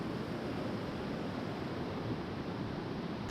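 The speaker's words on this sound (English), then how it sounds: "We are surrounded on all sides by rushing water." Rushing water of the Merced River in Yosemite on a cold, rainy spring day, heard as a steady, loud, broadband roar that holds unchanged throughout with no voices.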